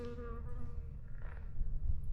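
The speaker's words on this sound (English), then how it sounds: "And this bee will not leave me alone." A bee buzzes right up close to the camera on the Appalachian Trail at White Rocks, a steady, droning whine that wavers in pitch as it circles near the lens.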